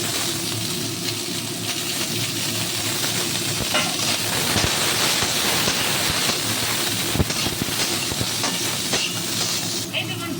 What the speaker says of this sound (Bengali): এবার আমি আলুগুলোও দিয়ে নিচ্ছি ওই তেলেই একসঙ্গে ভাজা হয়ে যাবে